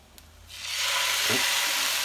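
Blender-made chilaquiles sauce hits a hot pan holding tortillas and starts sizzling, swelling from near silence into a loud, steady hiss, with a faint scrape of a utensil partway through.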